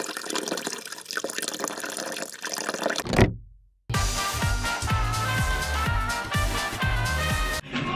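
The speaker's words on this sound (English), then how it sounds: "All right, let's put some hot water." Hot water from a Korean 7-Eleven convenience store dispenser pours into an instant noodle cup, first a broad rushing gush, then after a brief silence a steady splashing fill under store music.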